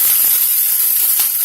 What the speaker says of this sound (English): This is steaming out of there.